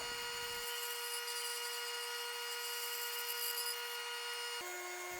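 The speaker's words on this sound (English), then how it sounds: "Using the bandsaw, I cut along the line." A bandsaw cuts along a marked line on wood boards for a dog bowl stand, producing a steady loud mechanical whine with a constant tone that shifts pitch briefly near the end.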